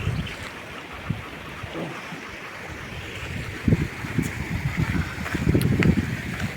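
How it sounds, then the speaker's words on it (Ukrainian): A river in the Carpathian mountains rushes steadily, with broad churning water noise and some wind buffeting the microphone, growing louder and fuller toward the end. "Ось яка річка."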